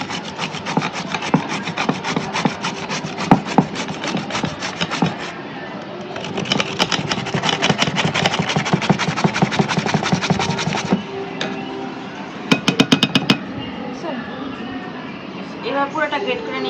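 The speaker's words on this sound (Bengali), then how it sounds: "এখন কাজুটা গ্রেট করে নেব" Cashew nuts are scraped over a kitchen grater in rapid rhythmic rasping strokes, close and continuous in long bursts with short pauses, then a brief final flurry of scrapes.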